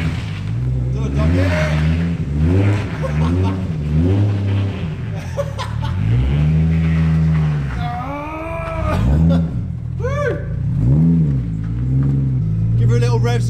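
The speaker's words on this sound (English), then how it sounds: "Give her a little rev, Scouse." A car engine revs up and down repeatedly, rising and falling in pitch, loud and close, with voices talking over it.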